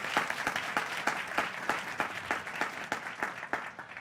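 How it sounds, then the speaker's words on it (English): Conference audience at the 2017 Push Tech 2020 Conference in Silicon Valley applauds, with sharp, evenly spaced claps sounding in a steady rhythm through the clip over a background of crowd noise. "Give yourselves a big round of applause."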